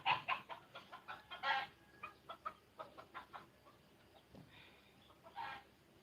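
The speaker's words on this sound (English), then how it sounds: "That rooster starts early." Rooster clucks and short crowing calls repeat in quick bursts, fairly close, then trail off before a final louder call near the end, in the Philippine mountains.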